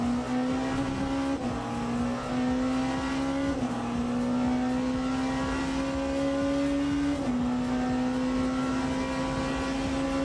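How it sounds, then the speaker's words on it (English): A Porsche race car in the Le Mans Ultimate racing game, its engine droning loudly and steadily at high revs, with brief dips at gear shifts and no talk. "Porsche sounds amazing."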